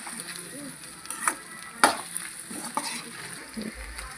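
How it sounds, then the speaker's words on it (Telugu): Okra frying in oil in a pan after turmeric is added, a soft steady sizzle with several distinct scraping stirs and one sharp clack of the spoon against the pan, close and without speech. "బెండకాయ నూనెలో ఫ్రై అయిన తర్వాత ఒక స్పూను పసుపు వేసుకున్నాను"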